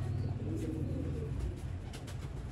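Pigeons in a rooftop coop give low, continuous cooing that fills the background throughout, steady and moderately loud with no talking.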